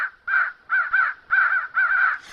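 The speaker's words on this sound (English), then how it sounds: "The wild crows flew in one great flock towards Dorothy and her companions." A flock of wild crows caws loudly and close, five harsh drawn-out calls in a steady rhythm with short gaps between them.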